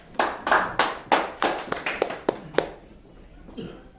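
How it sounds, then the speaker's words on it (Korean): Scattered audience clapping for a speaker being introduced at a multicultural welfare volunteer association event, about a dozen distinct claps in a loose rhythm that thins out and fades toward the end, with no voices. "박수 한번 주시겠습니다."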